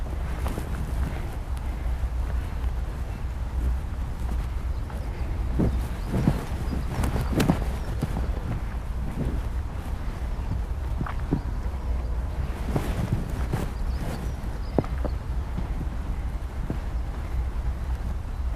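A horse walks on the ground, its hoof clip-clops sounding in a loose, irregular rhythm against a steady wind-like background, with no talk over them.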